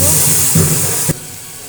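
Onion paste hits hot oil in a wok with a loud burst of hissing sizzle that cuts off abruptly after about a second.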